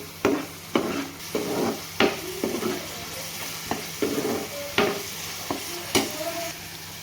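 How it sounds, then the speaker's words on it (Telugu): Onion and chilli masala is stirred in a pan, steady low sizzling broken by a regular series of spatula scrapes and knocks against the pan, close and clear with no talking. "5 మినిట్స్ తర్వాత మూత పెట్టేసి ఇదంతా ఒకసారి కలుపుకోవాలి"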